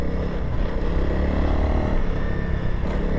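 A 2021 Honda CRF300L dual-sport motorcycle ridden on a trail, its engine a steady, continuous drone close to the microphone throughout, with no speech.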